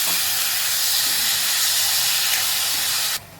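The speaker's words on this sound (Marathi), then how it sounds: "कांदा परतलाय त्यामुळे आपले ते तीन टमाटर कापून घेतले ते टाकलेत तर ते आपण परतून घेऊ" Onions and chopped tomatoes frying in a pan over a high gas flame, a loud continuous hiss that holds steady throughout and cuts off abruptly near the end.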